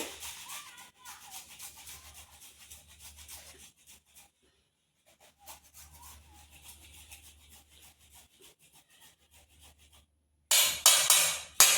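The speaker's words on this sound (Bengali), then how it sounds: "আমি আদা ঘষে দিচ্ছি তার সঙ্গে" Ginger grated by hand in a home kitchen, quiet repeated rubbing scrapes in uneven bursts with a silent pause midway, ending in a few louder harsh rasps.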